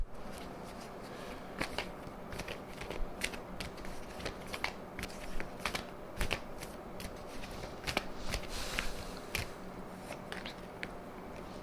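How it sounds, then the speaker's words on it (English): Quiet, steady riffling and flicking of an oracle card deck being shuffled over and over, soft papery snaps close by, no voices. "So now I'm just going to shuffle and see what the energy of the week is"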